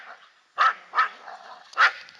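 A pack of dogs, with a newcomer being introduced, gives three sharp, fairly close barks spaced about half a second apart, over a low whiny background.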